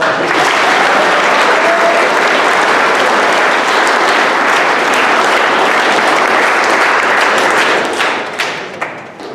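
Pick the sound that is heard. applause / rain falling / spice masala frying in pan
applause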